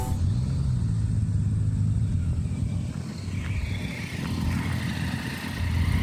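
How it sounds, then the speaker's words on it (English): A grapple truck loaded with wood rolls in for a tree service crew. Its engine rumbles heavily and steadily at close range, rising and easing slightly as it approaches. "I'm just showing up with the 3rd load right now"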